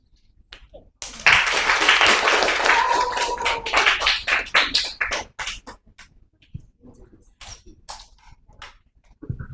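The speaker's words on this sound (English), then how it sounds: "One more round of applause for Danwin, please." Applause for the opening speaker at a student debate contest, starting abruptly as a loud burst of many hands, then thinning into scattered individual claps that fade out toward the end.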